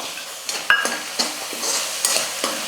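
Onions and soaked chana dal sautéing in a pan, a gentle sizzle punctuated by several sharp scraping and tapping strokes of a spatula, with no voices.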